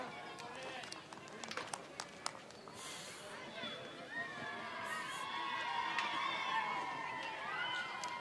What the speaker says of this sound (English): So what a big crowd, really a big crowd.